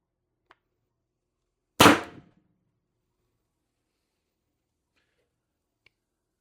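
An X-68 gun fires a single shot with a 7.3 gram aluminum projectile, one sharp, loud crack that decays quickly, set between faint small clicks in otherwise near silence.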